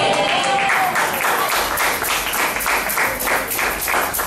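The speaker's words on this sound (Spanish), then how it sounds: "Gracias por su aplauso" A church congregation at an evening youth service bursts into applause, dense rapid clapping that stays loud and steady for several seconds with a few voices faintly underneath.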